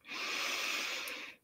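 One long, audible breath drawn in through the nose, steady and breathy, rising quickly and fading near the end, close and alone.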